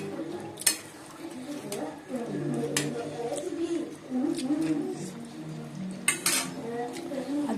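A cooking pot of fish curry is lifted off a home stove with sharp metallic clanks and scrapes of utensils, a few distinct clatters standing out over quiet kitchen sounds and a soft sizzle.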